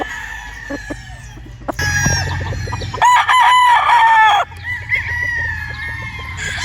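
P-comb gamefowl roosters crow in turn on a farm, several loud, ringing calls overlapping and following one another at close range.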